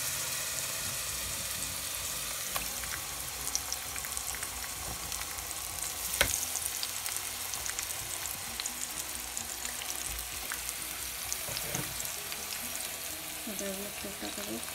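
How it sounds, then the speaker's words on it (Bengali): Hot oil sizzling and crackling steadily in a pan for pangas fish frying, a continuous close hiss with a few sharper pops, under faint background noise. "তেলটা গরম হয়ে আসছে, এখন আমি মাছগুলো দিয়ে দেব"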